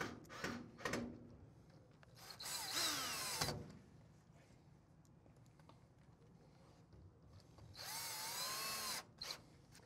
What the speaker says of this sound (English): So we're going to screw it into the sides and also the back.